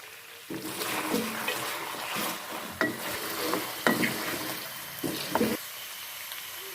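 Mutton with ginger-garlic paste sizzles steadily in a hot pan while a utensil scrapes and stirs with several sharp knocks against the metal.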